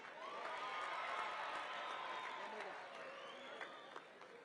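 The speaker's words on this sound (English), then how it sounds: "Can we give Abo Tintswalo just one more round of applause, please?" Audience applause at a South Africa Freedom Day celebration marking 30 years of freedom: steady crowd clapping and light cheering, moderately distant, carrying on for several seconds with faint voices underneath.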